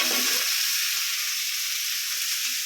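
Tomatoes and asafoetida drop into a hot pan for rasam, giving a loud, steady, hissing sizzle that starts with a brief burst and continues unbroken throughout, with no talk.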